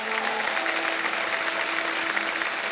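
A studio audience on a televised quiz show claps steadily, a dense, even wash of applause that holds throughout without pause.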